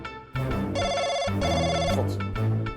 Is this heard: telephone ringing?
yes